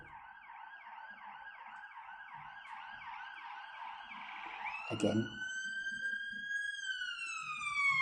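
Police and ambulance sirens wail outside at night, a warbling yelp that repeats steadily and then shifts into long rising and falling tones, loud and fairly close, with a brief burst of talk partway through.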